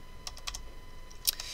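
Quiet, scattered keystrokes on a computer keyboard, a handful of light clicks in two short bursts with a sharper tap near the end, heard alone.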